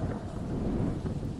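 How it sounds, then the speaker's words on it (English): Deep thunder rolls and rumbles through a rainstorm at night, a steady loud low growl with rain hissing beneath it, continuous and without any voices. "the sound of thunder rumbling outside"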